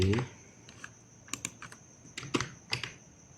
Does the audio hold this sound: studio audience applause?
no